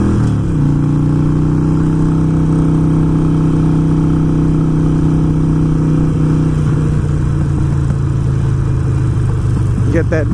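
A Harley-Davidson motorcycle with a Screamin Eagle Pro Tuner idles and runs loud and close, its deep steady engine rumble roughening with hesitation and uneven popping partway through.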